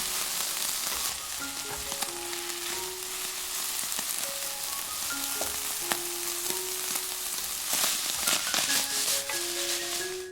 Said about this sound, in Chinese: 最后再撒上些青红椒圈，简单翻炒一下就可以出锅啦